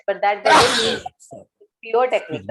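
One loud, sharp sneeze bursts out in the middle of a training session, set between stretches of someone speaking English.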